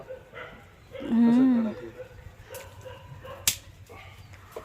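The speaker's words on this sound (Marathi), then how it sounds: "कुत्र्याचं पिल्लू आलंय छोटंसं, ते बघा कंपाऊंड मध्ये" A small puppy gives a short whining yelp, followed by faint rustling and a sharp click in a quiet outdoor compound.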